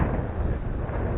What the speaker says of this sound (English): And it's really getting windy.